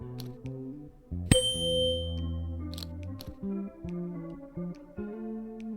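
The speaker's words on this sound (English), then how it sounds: "I need something else to make it vibrate. Een stemvork." A tuning fork rings in the video game Willy Morgan and the Curse of Bone Town. A bright strike opens a sustained metallic ding that fades over a couple of seconds, backed by layered game music.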